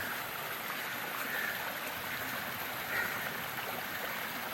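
A mountain stream flows out of the hillside, a steady, full broadband rush of water heard alone without any voices.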